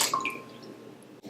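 Milk pouring into a large bowl of beaten eggs for raspberry cupcake batter, a short soft liquid splash and trickle, close and quiet with no talking.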